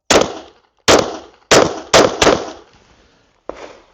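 A Beretta pistol fires six sharp, loud shots at uneven intervals; each crack decays quickly, with a longer gap before the last one.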